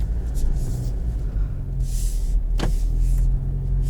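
A 2020 Subaru Outback XT moving at low speed, a steady low engine and road rumble with a brief click and chirp partway through, heard from inside the cabin.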